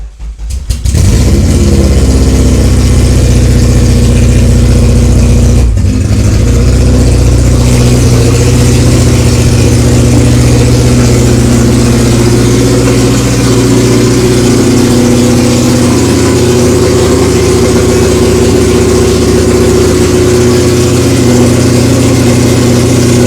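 Honda Civic fitted with a K24 engine cranks and fires up right at the start, then settles into a loud, steady close-up idle that runs unbroken for over twenty seconds with no one speaking.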